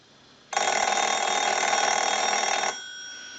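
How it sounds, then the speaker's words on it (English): A Spirit of St. Louis telephone under repair gives one loud, sustained mechanical bell ring of about two seconds, set off by a line analyzer, with a faint tone lingering after the ring stops. "I'm going to go ahead and use the analyzer and ring the unit."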